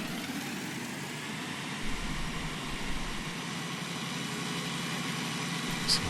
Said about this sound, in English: I do love this tractor.